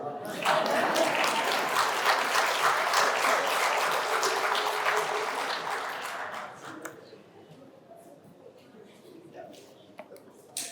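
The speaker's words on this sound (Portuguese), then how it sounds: "Podem bater palmas, já fechei" An audience applauds after a speech at a talk on Sunday school and good citizenship, a dense, steady ovation that holds for several seconds before thinning out to scattered claps and quiet room noise.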